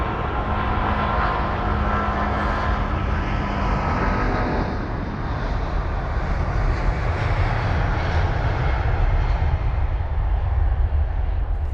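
A 22-year-old American Airlines Boeing 777-200ER in oneworld livery at London Heathrow gives a loud, sustained jet engine roar, a broad rushing drone with a whining edge that shifts gradually as the aircraft moves.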